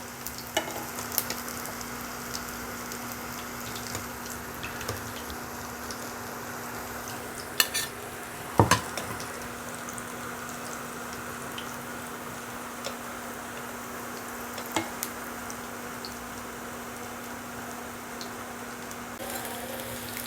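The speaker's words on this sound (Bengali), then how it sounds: "আমার এগুলো ভাজা হয়ে গেছে এবার আমি নামিয়ে নেবো" Steady sizzling of food frying in a pan, with a few sharp clinks of a utensil scattered throughout and no talking.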